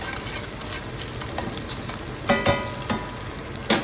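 Fatty pieces crisp in a hot pan with a steady close sizzle, broken by a few clattering stirs and pops toward the end.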